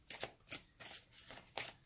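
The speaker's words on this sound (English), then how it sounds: "does it shuffle like a dream" A small 32-card Santa Muerte oracle deck is shuffled by hand, four or five quick, crisp riffling bursts in close succession, near and quiet.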